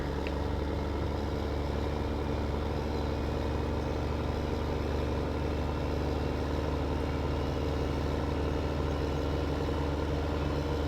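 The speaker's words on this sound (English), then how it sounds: "I guess I could go ahead and bring my tractor up here" A tractor engine idles in Farming Simulator, heard as a steady, even low rumble with a mid-range drone, constant and unbroken for about eleven seconds.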